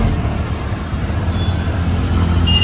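Steady road noise from an auto-rickshaw ride through city traffic toward a railway station, with a continuous low engine rumble and passing vehicles. The noise stays loud and dense, with faint tonal whines near the end.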